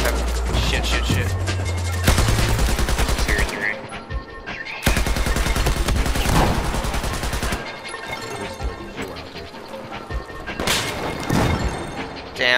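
Heavy Battlefield 4 gunfire: loud bursts of automatic fire and booming shots crowd the first half, pause briefly, then return in dense volleys before tapering into scattered shots, with voices talking over the battle.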